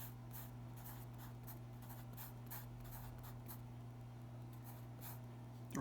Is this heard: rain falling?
no